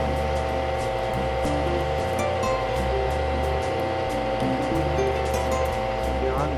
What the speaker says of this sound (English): I'm going to hold this to bore the hole in there